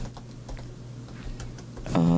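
Typing on a computer keyboard while entering a search into the Canva design tool, a short run of soft, faint key taps over a steady background hum, followed by a louder tonal sound at the end.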